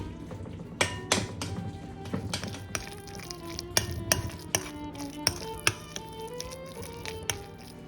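Beaten egg stirred into tuna cake ingredients in a mixing bowl, with a utensil giving quiet, irregular clinks and taps against the bowl over a soft background.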